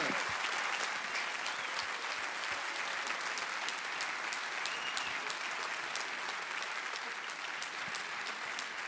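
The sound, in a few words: audience applauding in a hall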